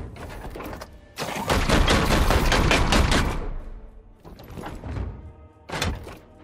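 Gunfire in the Warhammer 40K: Chaos Gate Daemonhunters video game: a loud, sustained burst of rapid shots lasting about two seconds, followed by two shorter volleys.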